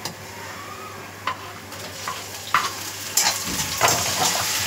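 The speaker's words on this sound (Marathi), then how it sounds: "टोमॅटो पण आपल्याला छान भाजून घ्यायचं आहे।" Tomatoes and onion frying in a pan with a soft, steady sizzle, broken by several sharp scraping and clinking stirs of a spoon against the pan, close and clear, with no talking.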